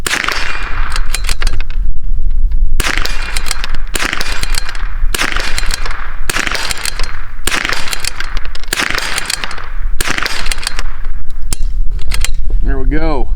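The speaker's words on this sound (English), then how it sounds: "We're shooting at a plate." Rifle shots fired through an Arken EP5 5-25x56 scope at a 4-inch steel plate roughly 150 out on an outdoor range: about eight loud, sharp cracks spaced a second or two apart, each with a short ringing tail.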